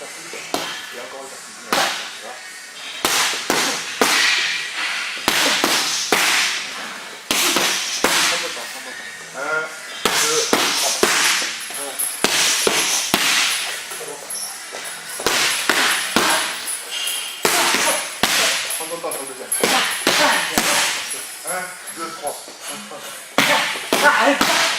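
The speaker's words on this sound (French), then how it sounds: "après je vais un petit peu travailler, faire travailler un petit peu au sac" Kickboxing strikes landing on a punching bag in a K1 training session, with sharp, irregular slaps and thuds in quick bursts and brief pauses between combinations, sometimes heard alongside talking.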